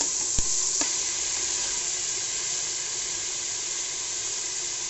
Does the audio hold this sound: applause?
no